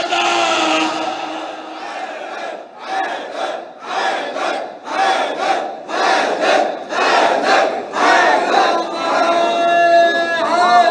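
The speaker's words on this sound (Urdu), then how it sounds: "دونوں ہاتھ بلند کرو، حیدر" A large crowd at a Shia religious gathering chants "Haidar" in loud unison, repeated in rhythmic bursts with brief pauses between shouts, echoing slightly.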